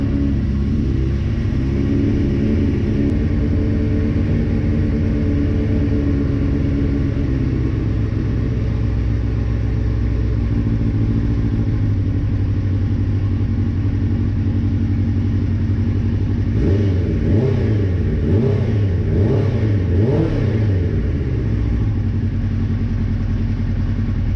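A crash-damaged Suzuki GSX-R 600 motorcycle idles with a steady, close rumble, then gets a run of quick throttle blips later on, its revs rising and falling in sharp bursts.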